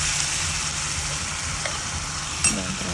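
Grated carrot and vermicelli frying in a pan for carrot payasam, a steady close sizzle with light stirring scrapes and a brief clatter near the end.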